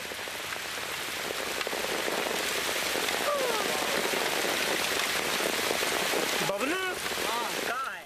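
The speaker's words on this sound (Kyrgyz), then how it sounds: "Индияда жаан чачын мезгили келгенде жамгыр аябай катуу жайт." Heavy monsoon rain pours down in India, a dense, constant hiss of drops striking surfaces that holds steady throughout, with a few faint animal or bird calls cutting through briefly near the end.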